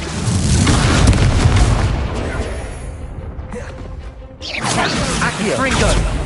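Spell effects from Hogwarts Legacy, including an Incendio fire spell, loud whooshing bursts and booming blasts, a dense roar that dips briefly before a new rushing burst; a voice shouts over it.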